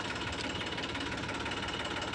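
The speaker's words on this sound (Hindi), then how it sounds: "मुझे ट्रैक्टर को टॉप गियर से निकालकर दूसरे में डालना पड़ता है" Eicher 380 tractor engine running on a dirt road, dropped from top gear into second; a steady, close, rumbling drone with a faint knocking texture throughout and no voices.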